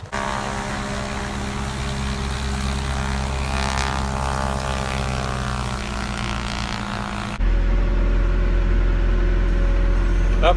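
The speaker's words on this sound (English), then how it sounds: "That plane didn't sound right." A propeller airplane drones overhead on a brisk morning at a van campsite. The steady, even engine hum carries without a break before cutting off abruptly near the end, and no voices are heard.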